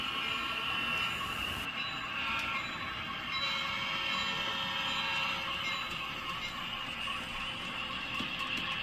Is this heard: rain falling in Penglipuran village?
no